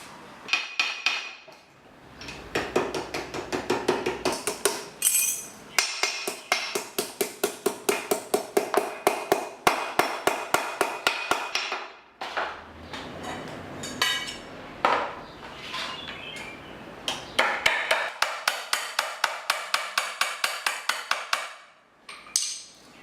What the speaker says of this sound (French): on va taper avec le marteau